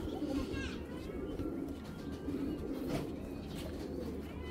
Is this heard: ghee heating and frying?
no